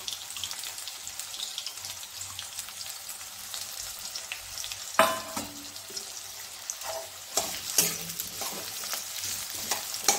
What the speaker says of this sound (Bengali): পেঁয়াজটা একটু লালচে করে ভেজে নেবে